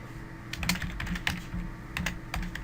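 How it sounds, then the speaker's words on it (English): Close keystrokes on a computer keyboard come in quick irregular clusters as text is entered into an office software form, crisp clicks over a faint room hum. "We can type in the purpose of the correspondence"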